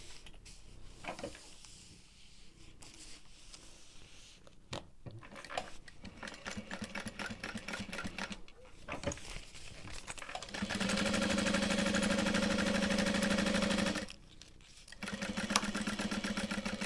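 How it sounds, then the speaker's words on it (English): A sewing machine stitches around all four sides of a fabric bag in short bursts of rapid mechanical chatter, pausing between runs, then a longer, louder steady stitching stretch near the end. "Now we're just sewing around all 4 sides again."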